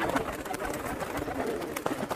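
Allahabadi pigeons cooing inside a pet shop, a dense chorus of soft overlapping coos and rustling wing sounds with faint background voices.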